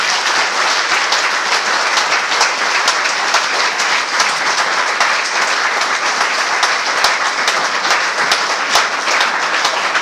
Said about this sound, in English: Let's applaud these graduates.